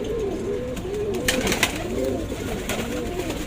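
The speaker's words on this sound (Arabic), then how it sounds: "فرد حمام طويل يا احمد" Pigeons coo steadily at close range, with soft, rolling warbles repeating throughout over a low background hum and a few faint clicks.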